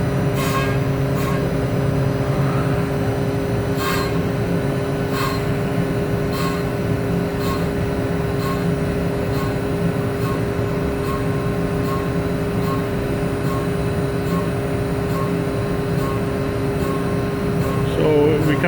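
A CNC machine mills a CO2 dragster body at 8,000 RPM with a 3,000 millimetres per minute feed rate, producing a loud, steady tonal whine over a dense mechanical roar, with faint regular ticks throughout and a brief rise near the end.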